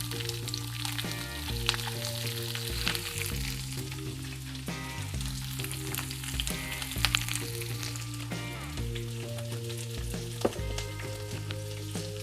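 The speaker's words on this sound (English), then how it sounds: "I'm going to add my Brussels sprouts to the oil first" Brussels sprouts fry face down in hot oil, giving a continuous crackling sizzle with scattered pops. Background music with a steady melody plays over it.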